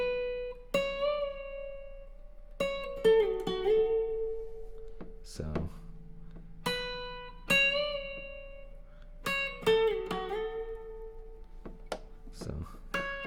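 Lead guitar solo from the opening of a song: sparse single notes and short bends, plucked in small bursts with pauses between phrases, fairly quiet and played alone without any voice.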